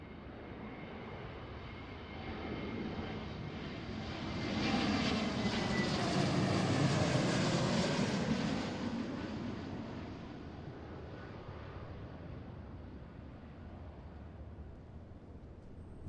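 An Alaska Airlines jet lands at Seattle airport: a broad, rushing engine roar swells to a peak over several seconds, then eases off into a steady, duller rumble, heard from a distance with no talking.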